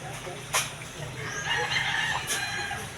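An Alimokon chicken clucks and calls close by in a farmyard, with a couple of sharp accents among softer ongoing clucking over a steady background murmur.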